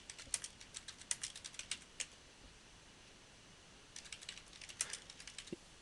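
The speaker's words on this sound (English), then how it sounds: "if I start typing in" Quick bursts of keyboard typing on a computer keyboard in two clusters, with a pause of about two seconds between them, soft and close with no voices.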